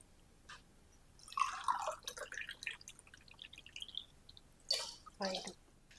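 Water pours in bursts into a cooking pot for making rava vadiyalu, splashing and gurgling near and fairly faint, with someone speaking between pours.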